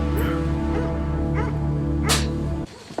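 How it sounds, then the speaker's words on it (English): A dog tied up in a yard in a TV drama yips and whimpers in short, high, repeated bursts over a steady low background hum, ending abruptly. "Why is there a dog tied up in our yard?"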